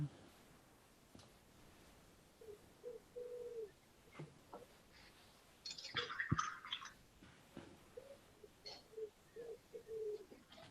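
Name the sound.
pigeon cooing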